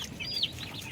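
Broiler chickens about 45 days old give a brief, faint cluck or two in a quiet coop.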